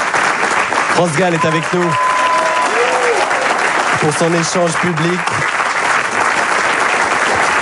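Dense, energetic applause from a studio audience at a televised public conversation with France Gall runs throughout, while a presenter speaks over it in two short bursts.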